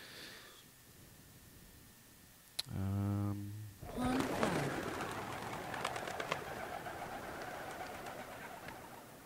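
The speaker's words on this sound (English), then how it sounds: "Yeah, pigeons. Pigeons flying." Pigeons flutter and take off with clattering wingbeats, preceded by a soft low cooing; a burst of wing noise then lingers as a broad rustling wash against faint background hiss.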